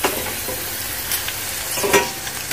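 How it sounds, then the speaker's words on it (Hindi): Okra frying in a little oil in a pan, a close, continuous sizzle with scraping stirs and a few sharper crackles over a brief stretch. "अब मैंने थोड़ा सा ऑयल डाल के तो अपनी भिंडियों को फ्राई कर रही हूँ"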